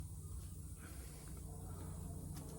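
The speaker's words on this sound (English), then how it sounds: "A little bit of spray." A steady, continuous hiss of aerosol spray on a Yamaha YZF1000 Thunderace motorcycle's radiator coolant hose, fairly quiet, running evenly through the whole stretch with no talking.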